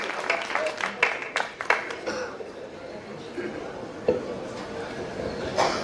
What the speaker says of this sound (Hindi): एक बार पूरा सदन जरा जोरदार तालियां विक्रम विवेक के लिए